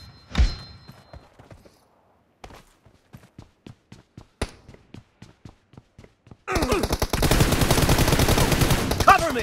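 Gunfire from a team deathmatch in a mobile shooter game, first scattered single shots and short bursts at a steady pace, then a dense, loud stretch of rapid automatic fire that runs to the end.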